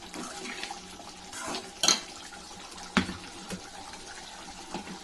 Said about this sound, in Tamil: இப்போ வந்து நம்ம தேங்காய் அரைச்சி ஊற்றிடலாம்.